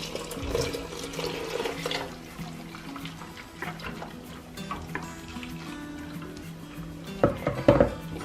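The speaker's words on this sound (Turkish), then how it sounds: "Şimdi bunu ilave edip pudingimi karıştıracağım." A spoon scrapes and clinks inside a pot of pudding on a stovetop as it is stirred. The sound is moderate and irregular, with a few sharper metallic knocks near the end and no talking.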